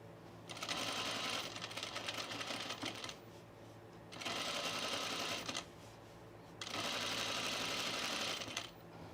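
A sewing machine top stitches through pin tucks on a sleeveless top in three steady bursts of fast, even whirring, each a couple of seconds long and split by brief quiet gaps, with no voices.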